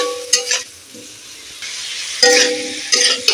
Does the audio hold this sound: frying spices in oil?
yes